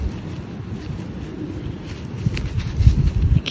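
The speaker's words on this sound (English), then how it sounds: "the wind is killing me" Wind gusting outdoors during a metal detecting and bottle digging outing, a low buffeting rumble on the microphone that swells louder toward the end.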